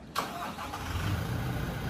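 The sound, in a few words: van engine starting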